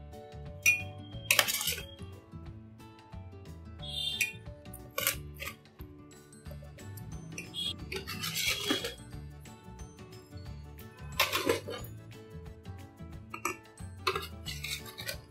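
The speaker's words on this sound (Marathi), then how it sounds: "आपण बरणीत भरूया" Mango pickle spooned into a jar, with sparse clinks and knocks of a spoon against glass and metal scattered over a quiet kitchen background, close and alone.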